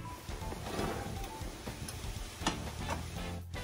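Onions sizzling steadily in a pan as an ingredient is tipped in, with a few sharp clicks and scrapes over a continuous close frying hiss.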